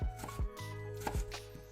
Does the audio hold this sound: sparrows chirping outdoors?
no